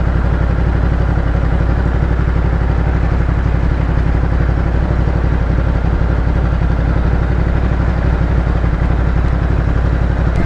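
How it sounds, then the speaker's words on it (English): A Ducati Multistrada 950S engine runs at low revs with a steady, rough clunking pulse, loud and close, the throbbing rhythm continuing without a break. "So it's got some clunkiness, no? In the low revs."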